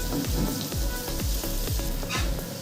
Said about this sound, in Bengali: এবার আমি পেঁয়াজটাকেও হালকা লাল করে ভেজে নেব।